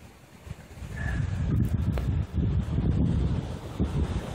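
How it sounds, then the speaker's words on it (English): Gusty wind buffets the microphone outdoors in snowy weather, rumbling loudly and unevenly for several seconds with a brief lull partway through. "Listen to the wind."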